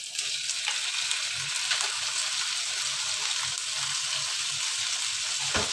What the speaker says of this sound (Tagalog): habang tinutunaw na natin yung ating butter, pwede natin ilagay yung ating chicken